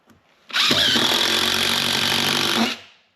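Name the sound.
power driver driving screws into plywood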